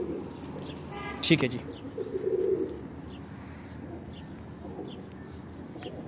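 A prized show pigeon lets out a single brief coo shortly after someone speaks a few words nearby, followed by a quieter stretch of room noise.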